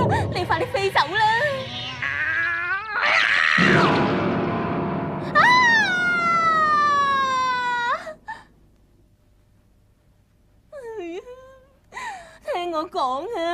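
A cartoon cat meows in long, wailing cries, several drawn-out mews and whines that are loud and close, with a quiet gap before a few more sharp meows.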